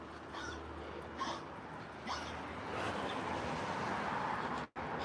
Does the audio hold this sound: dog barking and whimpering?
yes